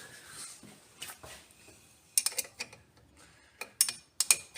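A spanner fitted onto the nuts of a Morris Minor dynamo at a workbench, with quiet metallic clicks and ratchet-like taps, sparse at first, then sharper clustered clinks near the end.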